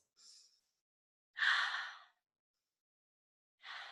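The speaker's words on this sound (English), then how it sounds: "Take a few breaths." A person taking deep breaths during a tapping exercise for breathing, three separate close breaths with silence between them, the middle one long and full.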